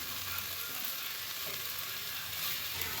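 Poha (flattened rice) with cauliflower, potato, peas and onion fries in a pan, a steady even sizzle heard close, no voices.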